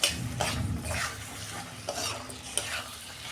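Soya chunks go into a pan of frying spice masala and are stirred, a spoon scraping and turning through sizzling oil in steady close strokes.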